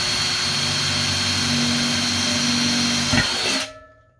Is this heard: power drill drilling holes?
yes